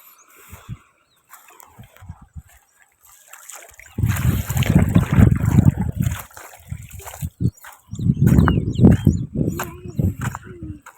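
Water in a village river splashes and sloshes nearby, with quiet trickling at first and then loud, irregular bursts of splashing from about four seconds on, as if from bathers in the stream.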